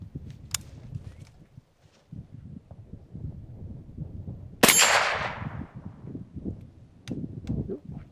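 Subsonic 6.5 Creedmoor round fired from a CMMG Mk3 rifle, with the bolt worked by hand: one sharp report midway that fades quickly, over a steady low rumble and faint handling noise.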